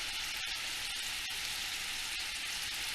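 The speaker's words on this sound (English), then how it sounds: "I added the meat, and I'm just going to give it quick stir, keep an eye on it, and let it brown." Beef sizzles in a hot pan with butter and olive oil, a steady dense crackle throughout with a few faint stirring taps, close and even.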